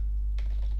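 A brief burst of computer keyboard typing during a Minecraft session, a few quick key clicks close by over a strong low steady hum, with no talk.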